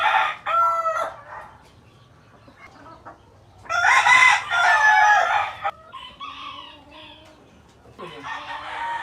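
Chickens in a small backyard coop cluck repeatedly, and a rooster crows loudly in long calls near the microphone, with bursts of fowl noise over a low background.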